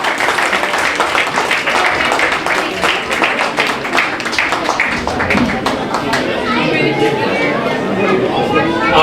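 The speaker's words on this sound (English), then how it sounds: "a round of applause." A crowd at an Independence Day celebration in Abu Dhabi claps during an award presentation, dense sustained applause mixed with chatter and cheering voices, loud and close throughout.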